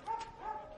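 A dog gives two short, high, clear yelping barks, fairly faint and a little distant, in a quiet room with no talking.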